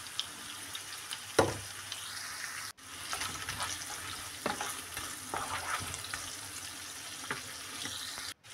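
Shrimp frying in oil with onion, ginger and garlic in a pan for an Italian bean and shrimp stir-fry, a quiet steady sizzle with occasional stirring scrapes and clatter, no talking.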